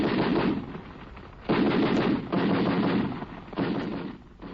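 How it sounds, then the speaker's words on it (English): A Gatling machine gun fires as an old-time radio sound effect, in loud, rapid bursts separated by short pauses. "Although many years have elapsed since the American Gatling invented the machine gun"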